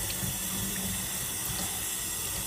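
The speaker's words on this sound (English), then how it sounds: "So your goal when you wash your palette is just to get the loose wet paint off of it." Tap water running into a sink while a paint palette is washed of loose wet paint, a steady close rushing stream with faint splashing changes and no talking.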